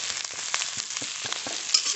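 Onions frying in a pan for a masala dosa filling hiss with a moderate, steady sizzle broken by soft, irregular stirring scrapes, close up and with no talking.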